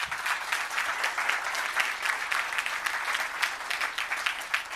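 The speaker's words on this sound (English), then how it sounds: "can we get a round of applause for Megan and Paul and the entire Catalyst team" Steady, fairly distant applause from a conference crowd at a technical SEO event, continuous clapping with no pause throughout.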